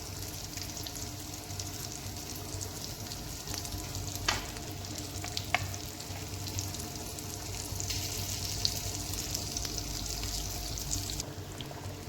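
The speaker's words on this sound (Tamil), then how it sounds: "மீனை போட்டு ஒரு 4 நிமிஷம் மட்டும் கொதிக்க விடுங்க" Fish kulambu with fish pieces added simmers in a pot, giving a soft, steady bubbling sizzle with a couple of faint clicks, quiet and close.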